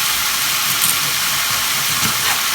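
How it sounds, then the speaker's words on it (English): Onion and garlic frying in a pan, a loud, steady broadband sizzle with no pauses, close up and alone. "Add the onion and garlic to the same pan and fry quickly."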